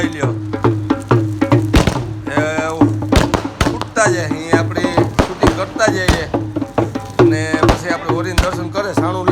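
Firecrackers go off at a Holi bonfire in sharp, irregular bangs, several in quick succession and others spaced apart, loud and close, with people talking between and over the blasts.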